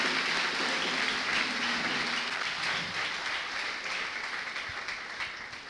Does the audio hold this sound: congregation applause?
yes